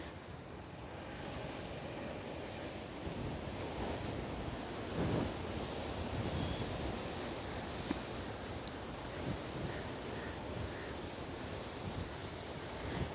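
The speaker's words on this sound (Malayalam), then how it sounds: "കോവളത്ത് പോയാലൊന്നും ഇത്ര തിരമാല കാണാൻ പറ്റൂല കേട്ടോ" Ocean waves wash continuously onto the shore at Kovalam, a steady broadband roar with gusting wind buffeting the microphone throughout, fairly close and moderately loud with no talk.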